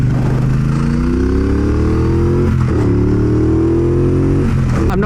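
A 2017 Triumph Bonneville Bobber cruises on a highway, its engine droning loudly and rising in pitch through the gears under constant wind rush, with no talking.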